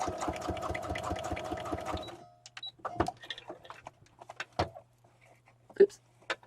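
A sewing machine stitches through cards in a fast, dense, rhythmic burst for about two seconds, then stops, leaving only scattered soft clicks and handling noises.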